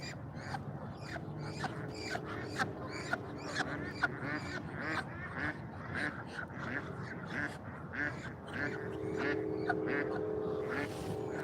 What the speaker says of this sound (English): don't get too close, duckies